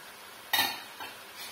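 Minced onion, celery and peppers hit meat browning in a pan, giving a short sizzling burst with a stir, followed by a couple of softer scraping stirs, close and moderately loud.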